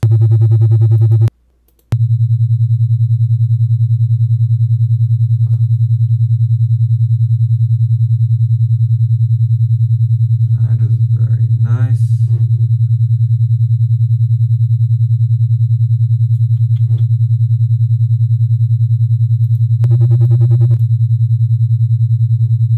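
Binaural beat tones generated in Audacity on Linux, a loud steady low hum held unbroken except for a brief gap, with a few faint clicks and chirps over it.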